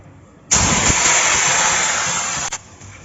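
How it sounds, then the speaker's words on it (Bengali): Taki fish hits smoking-hot oil with a sudden loud hiss, a dense close sizzle that holds for about two seconds and then drops back to quiet. "তেল গরম হয়ে গেছে, এই যে ধোঁয়া উঠছে, এখন আমি মাছ ছেড়ে দিচ্ছি।"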